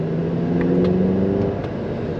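An Audi TT engine revs in sport mode, a steady loud rumble from inside the car that eases slightly toward the end.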